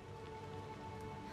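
Steady rain pours down in Diablo IV, a dense, even hiss of drops on surfaces with a faint low hum underneath, continuous and moderately quiet with no speech.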